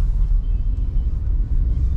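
A car drives through evening traffic near Kanjurmarg, heard from inside as a loud, steady low engine and road rumble that continues without pause.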